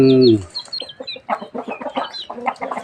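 Chickens cluck in short, busy bursts after a brief crow-like call at the start, several birds chattering close by in a steady stream.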